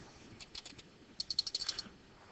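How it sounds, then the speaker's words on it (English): Quiet typing on a computer keyboard during a programming lesson: a few scattered keystrokes, then a quick run of closely spaced clicks, heard alone without speech. "My typing's not the best today."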